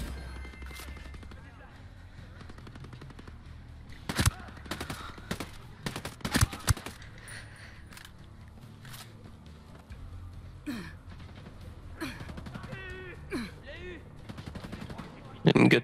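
Gatling turret gunfire in Ghost Recon Breakpoint, heard as several sharp bursts of loud shots over a steady rumbling game backdrop, with a final heavy burst at the end.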